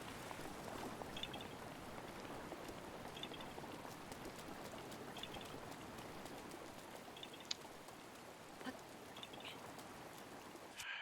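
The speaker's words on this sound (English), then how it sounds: "It's just very annoying that it's raining right here when I need to be here to collect the Korok." Rain falling in The Legend of Zelda: Breath of the Wild, a soft, continuous patter of drops at low level with faint brief chimes over it.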